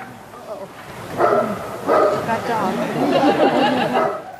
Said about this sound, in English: Next, an encounter with one of President Higgins's Bernese dogs, Mishnuk.